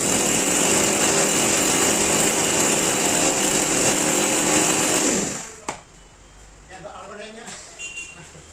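An angle grinder runs loud and close with a steady high whine for about five seconds, then winds down and stops, leaving quieter background sounds and voices.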